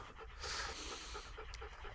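A sled dog pants close by in rapid, steady rhythmic breaths, quiet and alone in the dark.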